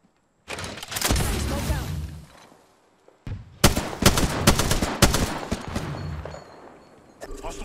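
Bursts of video-game gunfire from Apex Legends, a sustained automatic volley followed after a short gap by a second string of sharp, rapid shots and a few scattered reports, loud and close.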